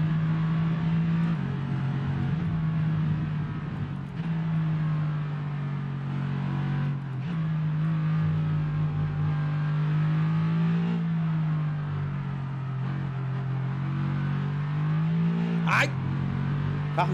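A Mercedes supercar on the Silverstone circuit in the F1 22 racing game roars steadily at high revs, its engine note rising and dipping through gear changes for the whole stretch, loud and close.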